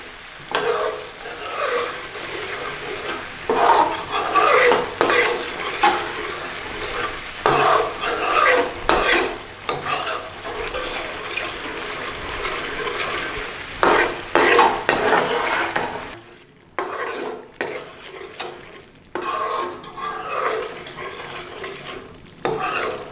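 Chicken rezala cooks in a pan with base gravy, heard as vigorous, rapid metal-on-pan stirring and scraping over a steady sizzle. Busy close clatter drops to sparser strokes near the end, with no talking.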